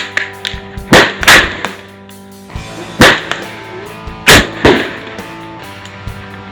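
Sharp RF15 rifle shots from a Roughneck Firearms AR-style rifle fired at targets 200 meters out: four loud, cracking reports spaced a second or two apart, each with a quick echoing tail, amid fainter clicks and handling noise.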